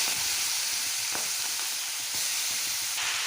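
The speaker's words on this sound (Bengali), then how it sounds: "এখন এই চাল কুমড়োগুলো দিয়ে দেব।" Ash gourd pieces hit hot oil with kalonji seeds and green chilli, giving a steady, loud, close sizzle with faint stirring clicks.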